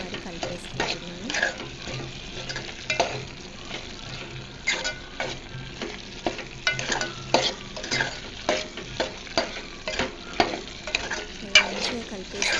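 Mutton keema fries with chili powder while a spoon stirs it, scraping the pan in repeated rhythmic strokes over a continuous close sizzle.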